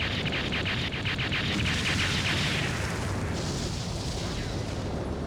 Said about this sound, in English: Love that stock sound effect for explosions.